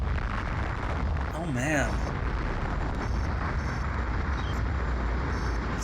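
Spacecraft blowing apart during a space battle in the Colony Wars video game, a steady roaring rumble of explosions and engine noise with a warbling tone, while someone speaks briefly over it.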